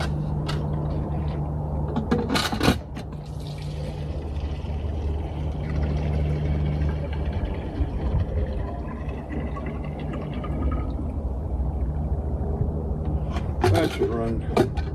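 Gasoline glugging and splashing into the tank of a 1966 Ford Mustang, revived after sitting wrecked for 31 years, a steady close pour outdoors with a couple of sharp knocks and someone talking over it.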